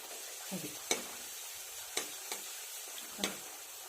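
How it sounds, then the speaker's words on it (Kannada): Moong dal puris frying in hot oil, a soft continuous sizzle broken by a handful of sharp clicks and taps from a utensil, close but quiet, no talking. "ಎಣ್ಣೆ ಚೆನ್ನಾಗಿ ಕಾದಿದೆ ಇದು ಹಾಕ್ತೀನಿ"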